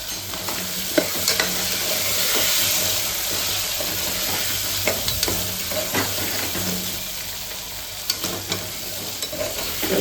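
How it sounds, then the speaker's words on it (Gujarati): Potatoes stirred and sautéed in a hot oil tempering with turmeric for a Gujarati potato curry, a constant loud sizzle with repeated scraping stir strokes close by. "બટાકાને 5-1 મિનિટ આવી રીતે શેકી લેવાના છે"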